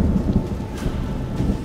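Heavy rain falls under a deep, rolling rumble of thunder in a scary short story, forming a dense, continuous storm texture with no voices.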